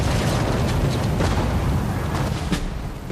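Heavy bombing explosions in the World War II strategy game Sudden Strike 4, set at Tobruk: a dense, loud wash of booms and bursts with several sharp blasts standing out, continuous for about three seconds, with no voices.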